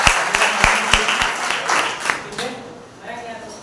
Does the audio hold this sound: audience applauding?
yes